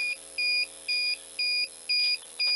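Digital meat thermometer on a drum smoker giving a steady series of five to six evenly spaced, two-tone electronic beeps, close and clear over a faint background hum.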